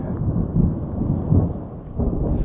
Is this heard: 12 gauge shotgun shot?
no